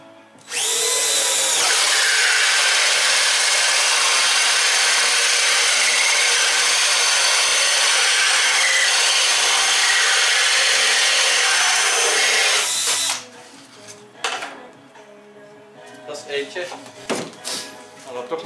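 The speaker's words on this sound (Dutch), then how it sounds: "Ik ga daar gaten in boren, hè." A power drill bores holes into an incubator with a loud, steady high-pitched whine for about eleven seconds, then stops, followed by scattered clicks and handling noises.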